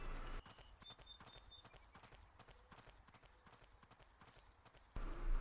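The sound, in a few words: horse hooves cantering in video game Ecos: La Brea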